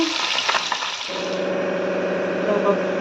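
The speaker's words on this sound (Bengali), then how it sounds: "চারজনের চার পিস গরম গরম ভেজে দিচ্ছি" Four pieces of fish frying in hot oil in a home kitchen, with a steady close sizzle and bubbling that starts with a few stirring clatters, and brief talk near the beginning.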